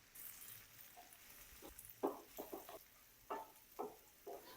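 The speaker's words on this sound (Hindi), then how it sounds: "अब उसी मक्खन में मैं गाजरों को फ्राई करूंगा" Carrots frying in butter in a pan give soft sizzles and a few faint stirring scrapes in short bursts, quiet and close with no voices.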